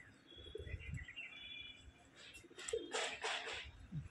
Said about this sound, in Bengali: মাদা পায়রা আছে